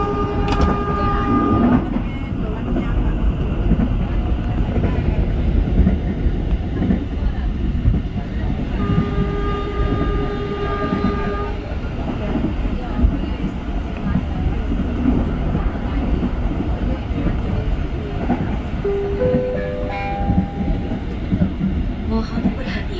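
A Blorasura commuter train rumbles steadily along the rails between Benowo and Bojonegoro stations with constant rolling noise, a few brief tonal squeals and announcement chimes cutting through.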